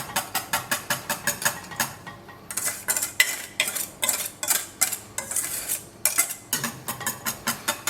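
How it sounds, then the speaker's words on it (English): Whisk beating a hot boiled mixture for Swedish cardamom ice cream in a bowl, fast rhythmic metallic clinks and scrapes repeating steadily and loud, close up with no talking. "We're just going to whisk this pretty vigorously."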